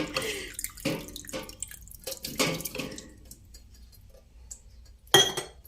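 A household tap that will not shut off, giving splashing, dripping water in short uneven bursts over the first few seconds, then a quieter stretch and one sharp splash near the end.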